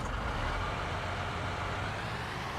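A large tractor engine in Farming Simulator 19 drones at a steady, fairly loud idle for a few seconds, with no talk over it.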